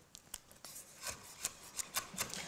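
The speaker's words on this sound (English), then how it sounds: "I'm just going to strip the leaves off the fresh rosemary stalks and finely chop" A knife finely chops fresh rosemary leaves on a board, a quick run of soft, close, crisp cuts in an uneven rhythm.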